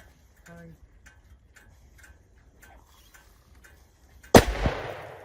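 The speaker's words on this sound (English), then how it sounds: "Good shot." A single loud gunshot fired at a wild hog cracks sharply near the end, with a short ringing decay. Faint ticking and quiet outdoor background come before it.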